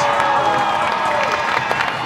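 Stadium crowd at a Penrith Panthers versus Gold Coast Titans rugby league game, a loud continuous roar of cheering and shouting with scattered whoops, dense and close all around.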